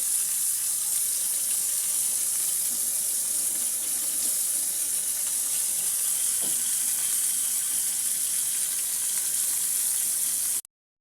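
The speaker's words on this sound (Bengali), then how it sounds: "মাছগুলোকে আমি মুচমুচে করে ভেজে নেব।" Tilapia fish fry crisp in hot oil, home style, with a dense, continuous sizzle and hiss that stays loud and close. The sizzle cuts off abruptly at the end.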